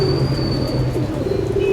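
Kamagar pigeons, a Bhuchal cross line, coo steadily in a loft, soft low rolling coos running through the whole stretch with faint chirps above.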